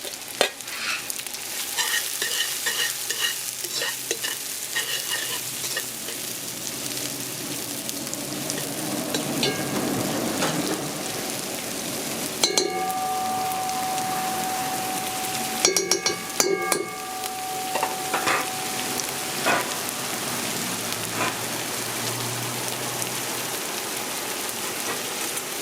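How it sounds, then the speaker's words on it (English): Onion, garlic, pimento and hot pepper fry in a pot for a Trinbagonian pork pelau, giving a steady close sizzle with occasional stirring clatter and scrapes throughout. "So how long do you want to fry the aromatics?"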